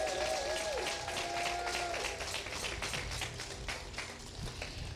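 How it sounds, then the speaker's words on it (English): Audience applause for a state senator at an outdoor Juneteenth commemoration, a faint, distant wash of clapping with a tonal whine early on, steady throughout. "Senator Mamie Locke from Hampton, Virginia, please stand up and deserve a round of applause."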